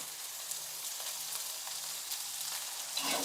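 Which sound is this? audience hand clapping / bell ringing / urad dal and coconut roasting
urad dal and coconut roasting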